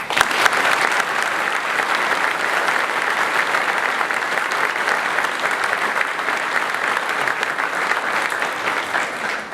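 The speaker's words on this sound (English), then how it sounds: "we give Kathy Johnson a round of applause" Sustained, dense applause from a large audience at a university presidential announcement, steady and loud throughout with no break, a full crowd clapping together from start to finish.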